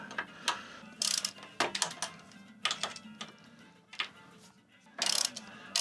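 Small bolts are undone on a gearbox during reinforcement work, giving close, irregular ratcheting clicks and metallic turns in short bursts with pauses between them.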